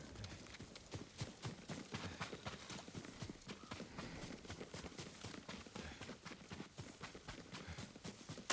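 Horse hooves clip-clopping in the Ghost of Tsushima video game, a quick, steady run of hoof beats on the ground, fairly faint and continuous with no talk.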